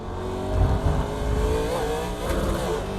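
A NASCAR Legends car engine at Sonoma in iRacing drones and revs loudly and steadily with a gritty tone, shifting pitch slightly as it brakes toward a corner, with no talk.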